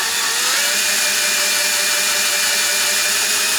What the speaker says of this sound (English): So you just come up onto the cutting blade, it's just starting to cut, you can see the shavings coming off.